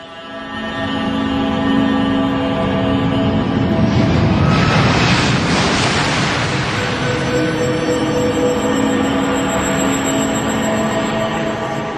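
Jet engines of a US Airways airliner on Flight 1549, a loud, sustained roar that swells in the middle and then holds steady, with no voices.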